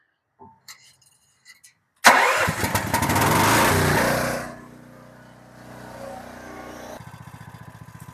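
A Vulcan Outlaw 195 welder's engine is cranked and fires up loudly after a few small clicks, roars briefly, then settles into a lower, steady idle chugging nearby.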